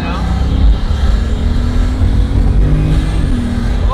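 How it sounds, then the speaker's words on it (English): A Bugatti's 16-cylinder, four-turbo engine rumbles deep and loud throughout, a steady low roar with slight swells, heard close up. "The sheer power of a Bugatti engine. 16 cylinders, 64 valves, 4 turbos."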